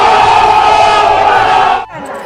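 Large crowd of devotees at Siddhi Mata temple in Bemetara, Chhattisgarh, during Navratri, a dense roaring mass of voices with cheering, loud and close, cutting off abruptly near the end.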